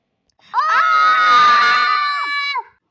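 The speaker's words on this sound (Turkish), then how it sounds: "Bir bağırma sesi." One long high-pitched human scream at an amusement park, wavering for about two seconds before cutting off, clear and fairly loud against a quiet background.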